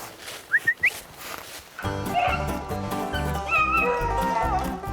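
Rabbit hunting dogs in a Daviess County field bark and yip outdoors, a few high yips at first, then a busy run of overlapping barks and yelps.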